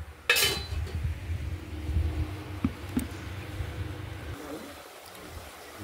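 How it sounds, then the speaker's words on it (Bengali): Spice paste sautéing in a pan for a potato and paneer fritter curry: a sharp metal scrape at the start, then a steady low sizzle with occasional clinks of a spoon against the pan, tapering to a quieter hiss. "মশলাটা কষানো হচ্ছে"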